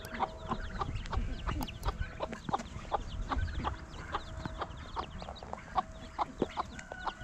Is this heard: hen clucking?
yes